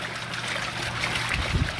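A leaky washing machine starts to agitate with water running, giving a steady close-up rush of flowing and trickling water and a low churning thump near the end.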